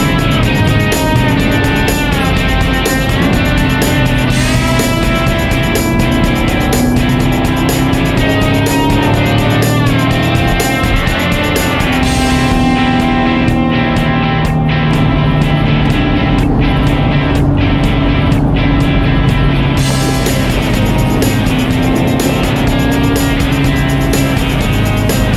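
A 2016 Chevrolet Camaro drives on the road, its engine droning loudly and continuously with rising and falling pitch through shifts, heard from close inside or beside the car.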